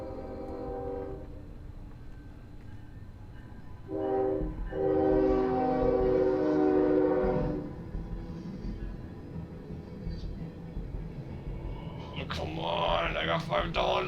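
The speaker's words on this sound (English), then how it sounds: "Upon hearing the incoming train" An incoming train passes with a long, loud horn blast sounding over the steady rumble of the cars, followed by rattling metallic noise as it rolls by, with people talking nearby.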